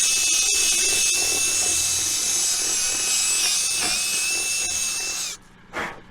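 A power drill reams out a hole on a farm, a steady high-pitched whine that runs loud and continuous, then cuts off abruptly near the end, followed by a brief short burst.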